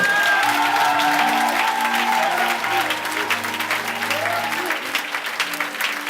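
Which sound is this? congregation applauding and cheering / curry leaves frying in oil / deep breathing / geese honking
congregation applauding and cheering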